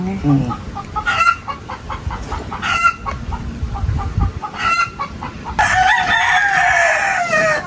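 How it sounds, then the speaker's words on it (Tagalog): Chickens on a Philippine farm cackle and cluck after laying eggs, with repeated loud squawking bursts close by and a rooster-like crow near the end. "Pag ganun nagpuputak ang manok"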